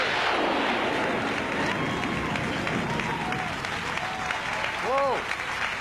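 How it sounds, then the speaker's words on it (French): A TV studio audience applauds and cheers on the final episode of a Quebec variety show, dense and loud throughout, with voices mixed into the crowd noise. "On l'applaudit."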